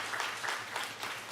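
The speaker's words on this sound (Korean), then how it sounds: "우리 박수 한번 하고 넘어갈까요?" Church congregation applauding during a Sunday worship service, a brief dense patter of many hands clapping together at even volume, filling the room without any speech.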